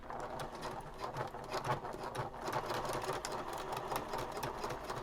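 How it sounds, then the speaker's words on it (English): Sewing machine stitching back and forth across a braid for a boho bag, a rapid, steady mechanical patter close up and fairly quiet, running continuously with no speech. "I'm going to sew across it just like I sewed across at the beginning, back and forth several times"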